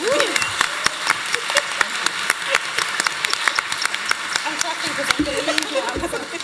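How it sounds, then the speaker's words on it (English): A single person clapping hands, a quick uneven run of sharp claps close by, mixed with laughter and chatter from several people talking over them. "I'm clapping because I'm like, it's finished."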